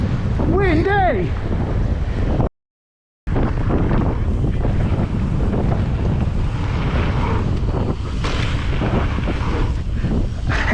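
Fierce headwind batters the microphone outdoors in a loud continuous low roar, a short voice heard early on and a brief dropout of silence before the buffeting resumes.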